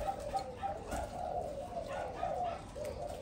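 Malaysian spotted doves coo steadily on a breeding farm, several birds overlapping in a continuous, moderately loud, rhythmic chorus with no talking.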